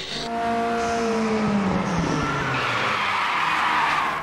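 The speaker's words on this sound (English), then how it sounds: "How would you want to take your Ford Capri around Bathurst?" Ford Capri lapping Bathurst in a VR racing game, engine revs falling then a long rising tire squeal and skid, loud and continuous with no talk over it.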